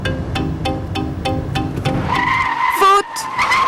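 A car on a driving practice circuit brakes hard, tyres squealing and skidding in a rising screech near the end, after a rhythmic engine pulse, with a voice speaking over it.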